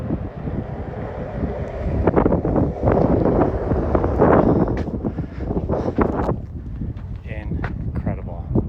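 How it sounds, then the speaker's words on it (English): Strong gusting wind buffets the microphone at a high outdoor desert viewpoint near Moab and Mesa Verde, a loud, uneven roar with rising and falling blasts throughout. "It's windier than hell up here."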